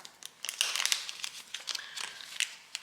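Paper banknotes are pushed into a paper cash envelope, making close, quiet crinkling and rustling in short irregular bursts with small crisp snaps.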